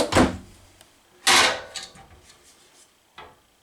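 A large pot and pan drawer in a 2024 Winnebago Access travel trailer slides and bumps shut close by, with two distinct knocks about a second apart and a fainter rattle afterward.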